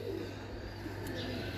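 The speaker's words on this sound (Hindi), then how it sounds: "बहुत ही ज़बरदस्त कबूतर है माशाल्लाह" A pigeon coos softly and steadily at mid distance over a constant low hum, with no voices.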